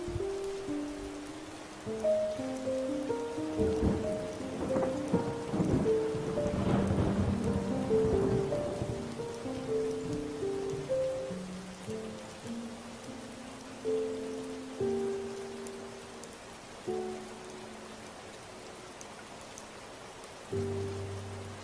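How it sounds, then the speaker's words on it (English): Steady rain falls throughout with occasional low rumbles of thunder, while soft music with sustained tones plays over it at a moderate level, and no voices are present. "That means you can hear the rain"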